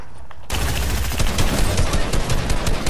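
Gunfire in the Fortnite video game erupts suddenly after a quiet moment, then keeps up a loud, dense run of rapid automatic shots and overlapping bursts.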